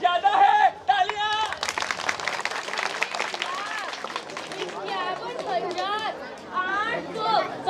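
Audience at an outdoor street play about money breaks into scattered clapping mixed with lively chatter and voices, the applause swelling and fading under the talk.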